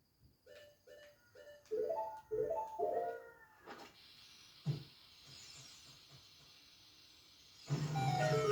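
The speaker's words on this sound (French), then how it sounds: "Et en plus, on a l'espèce de hibou à côté." Soft repeated hooting calls of an owl at night in Zelda: Ocarina of Time on N64, a series of short tonal coos in a quiet setting followed by a sustained airy hiss and a louder low tone at the end.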